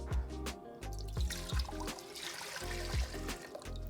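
Water poured out for pickle brine, a close gurgling trickle with brief glugging bursts, heard without speech.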